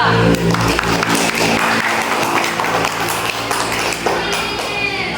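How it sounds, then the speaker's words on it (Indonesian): Classroom applause for a group of pupils, a burst of scattered hand clapping from the class that fades into lighter tapping and shuffling. "Tepuk tangan dulu untuk kelompok 2"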